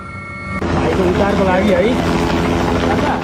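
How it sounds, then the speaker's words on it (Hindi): A rescue helicopter flies over a flooded area in Nepal, its steady loud rotor and engine roar filling the scene, with voices faintly mixed in. "बचाने के लिए हेलीकॉप्टर लगाए जा रहे हैं"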